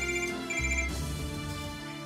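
A telephone rings in a home with a repeating electronic ringtone, loud and close, the tone bursts continuing for about two seconds, with no talk.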